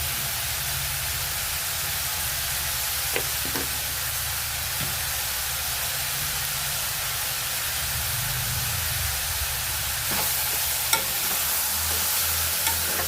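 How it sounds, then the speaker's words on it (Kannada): Potato and capsicum cubes fry in oil with turmeric powder and salt, giving a steady soft sizzle broken by a few faint stirring scrapes and clinks. Low background music runs beneath it. "ಇವಾಗ ಫ್ರೈ ಆಗಲಿ ಇನ್ನೊಂದು ಸ್ವಲ್ಪ ಹೊತ್ತು"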